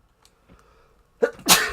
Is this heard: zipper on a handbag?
no